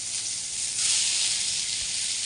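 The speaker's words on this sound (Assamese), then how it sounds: "ধুনীয়াকৈ বিলাহীখিনি এয়া ভাজি আছোঁ" Chopped tomatoes frying in oil in a kadai, a continuous close bright sizzle and hiss that swells slightly midway, with no voices.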